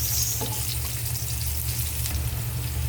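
Garlic and onion sizzle steadily in hot oil in a pan, ready for ground meat to be added, with a low background hum underneath and a faint scrape near the start.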